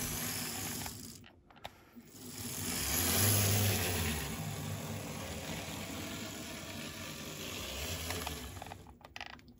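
Tillig BR 110 model locomotive with a newly installed decoder, running with a faint mechanical motor whir that swells and fades, interrupted by a couple of brief clicks.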